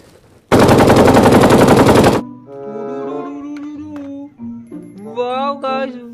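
A burst of AK-47 automatic fire in the game Jurassic World Evolution 2, about two seconds of loud rapid shots, then tonal, voice-like game sounds.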